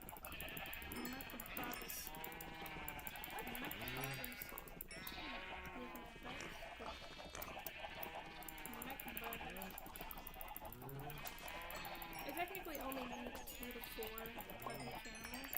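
Sheep in Minecraft bleat repeatedly in short wavering calls, overlapping one another at a close, even level while someone talks over them.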